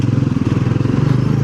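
A Royal Enfield Bullet motorcycle thumps along a potholed road, its loud, steady single-cylinder pulse close by and running without a break, with faint rattling over the rough surface.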